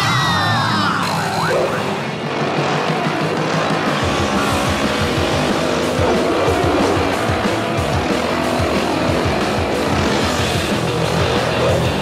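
Cartoon scooters race away with squealing, skidding tires and revving engines, a loud, busy burst of speeding motor noise mixed with whooshes and sound effects throughout.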